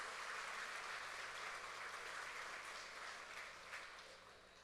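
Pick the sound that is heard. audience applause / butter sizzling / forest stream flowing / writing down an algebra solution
audience applause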